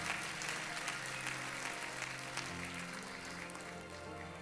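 A church congregation claps as an offering to God during a Spanish-language service, a sustained dense applause from a large room that continues steadily and slowly eases off.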